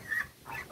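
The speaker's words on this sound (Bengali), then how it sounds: "দেখো এখানে কি কতগুলো হাঁস" Ducks in the grounds of a rural-style resort near Kolkata give two short, fairly loud quacking calls in quick succession, close by, with no talking.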